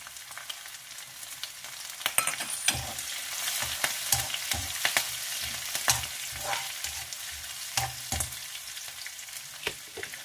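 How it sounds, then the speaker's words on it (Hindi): Chopped green chillies frying in garlic oil in a pan for lehsuni palak, giving a steady close sizzle with crackling pops and occasional stirring scrapes throughout. "अब मैं इसमें थोड़ी अपनी हरी मिर्च डाल दूंगी"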